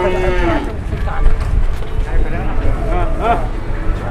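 Cattle at a livestock market where cows are being bought and sold, with low moos and animal noises under a steady crowd hubbub and overlapping talk.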